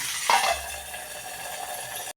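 Mustard seed tempering sizzling in oil for mango tambuli, a steady light frying hiss with a brief utensil clink near the start, cutting off abruptly at the end.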